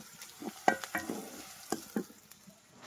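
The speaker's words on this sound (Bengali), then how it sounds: "হালকা ভেজে নিলাম, হালকা না বেশি ভাজছি" Light sizzling of vegetables frying in a pan, with intermittent scraping clicks of a spatula stirring; no talking.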